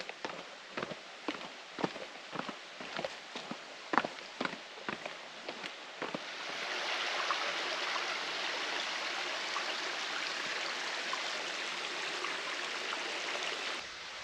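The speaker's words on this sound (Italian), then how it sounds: "si sente il rumore dell'acqua" Water from a stream runs near a path leading down to a waterfall on Kythira, a steady broad rush that swells after a stretch of crunching footsteps at the start.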